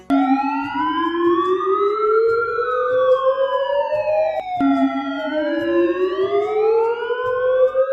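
Loud, continuous wailing ambulance siren with rising and falling tones, overlapping sweeps layered together, close and unbroken.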